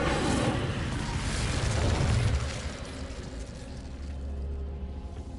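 Fiery spell blast from a fantasy video game, a loud roaring burst with crackling rumble that swells for about two seconds, then settles into a lower continuing rumble, no talk over it.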